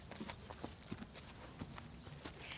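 Irregular hollow hoof clomps on a hard surface, a horse stepping slowly and unevenly as it backs off a trailer, fairly faint with no voices.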